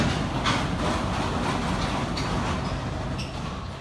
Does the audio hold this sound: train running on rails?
yes